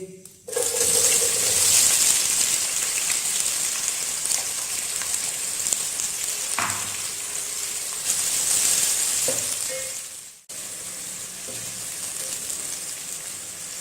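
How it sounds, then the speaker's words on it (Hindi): Onions hit hot oil in a pan and sizzle loudly with a steady bright hiss for a chicken macaroni dish, with occasional stirring clinks, a brief break near the end, and no speech. "ऑयल हमारा अच्छी तरह गर्म हो गया। अभी हम इसमें प्याज ऐड कर लेंगे।"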